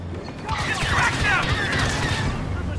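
Rapid blaster gunfire in the Star Wars Battlefront 2 campaign rings out in a dense, continuous battle barrage with booms and mechanical clatter, while voices shout over the fighting.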